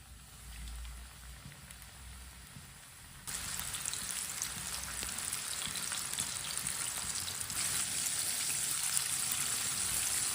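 Chicken pieces frying in hot ghee on a medium flame, a steady close sizzle that jumps louder as more chicken hits the pan and keeps crackling continuously.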